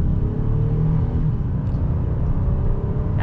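A 2022 Honda Ridgeline HPD Black Edition pickup accelerates with a steady, loud low engine rumble and drone throughout, no voices over it.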